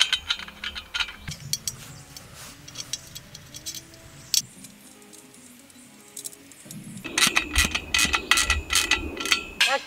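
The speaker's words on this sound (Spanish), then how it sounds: "Ahí vamos con el primer tornillo" Metal screws driven into greenhouse frame tubes, clicking and ratcheting in short irregular bursts with quieter pauses, then a busier stretch of sharp rattling taps near the end.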